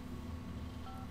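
Phone dialing tones in GTA 5 Online, a couple of brief steady beeps over a constant low hum of game background.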